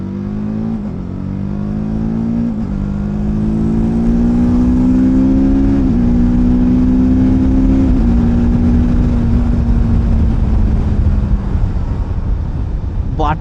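TVS RTR 310 motorcycle engine revs up through the gears with quickshifted upshifts, its rising drone broken by brief shift dips, loud and close with wind noise throughout.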